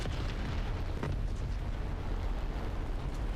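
Artillery fire in the War Thunder tank and aircraft video game, a faint, steady rumble of distant explosions with one sharper thump about a second in, no talk over it.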